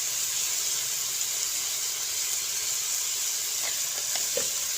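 Masala paste for a jackfruit kofta curry fries steadily in a pan, a constant close hiss with a few faint stirring scrapes near the end and no talking.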